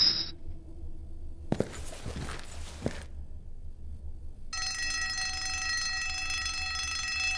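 Alarm sound effect in the game Asylum, a loud, sustained electronic ringing tone that starts abruptly after a few scattered clanks and rattles.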